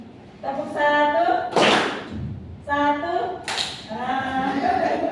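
A class answers with a single crisp group clap, twice in a row, each burst set between stretches of a teacher speaking.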